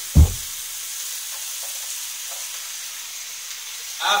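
Onions and potatoes frying in a pan, a steady hiss and sizzle after one sharp knock at the start, with a brief louder clatter of stirring near the end.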